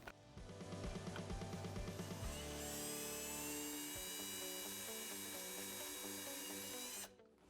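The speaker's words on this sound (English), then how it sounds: "anytime you're drilling through this plastic" A high-pitched drill whines steadily, with rhythmic chattering bursts at first as the bit bites through plastic on a UTV, then a smooth sustained spin before stopping abruptly.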